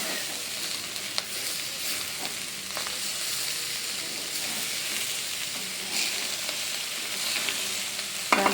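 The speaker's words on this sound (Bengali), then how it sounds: "চালগুলোকে আমি ভালো করে ভাজা ভাজা করে নিচ্ছি।" Rice and lentils fry in a pan over medium-low heat for khichuri, making a steady, dense sizzle with occasional faint stirring ticks throughout.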